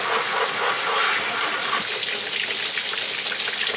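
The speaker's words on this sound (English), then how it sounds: "I'm gonna dump this, rinse my brushes." Tap water gushes into a sink while hair brushes are rinsed, a steady, loud, close hissing stream with a slight change in tone partway through as the flow is disturbed.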